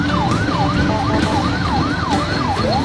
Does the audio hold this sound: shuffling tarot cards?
no